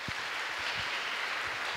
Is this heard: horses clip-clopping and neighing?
no